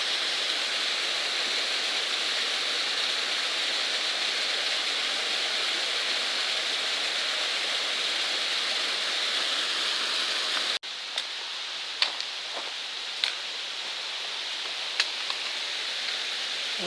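A small waterfall on a mountain trail gives a steady, close, even rush of water, with a brief break partway through followed by the same flow and a few faint clicks.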